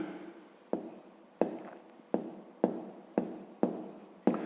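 Pen or marker writing out a fifth-grade maths solution on a board or paper, six sharp strokes in a steady rhythm, each starting with a tap and trailing off in a scratchy rasp, close and clear with no talk.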